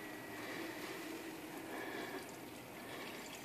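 Heavy mineral oil pouring steadily into an oil-submerged PC build, a continuous liquid wash with no clear breaks, fairly faint and unaccompanied by talk.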